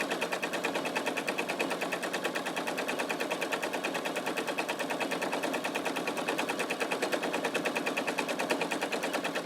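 A sewing machine runs steadily, stitching slowly over the tree-trunk part of a fabric Christmas tree napkin. Its needle gives a fast, even, close-up mechanical chatter that continues for the whole stretch with no talking.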